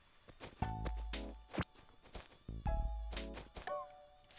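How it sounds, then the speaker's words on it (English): Mosquitoes buzz around a lakeside town in a video game, their whining drones rising and fading in repeated close passes over a low background hum. "God, this town is just mosquito central."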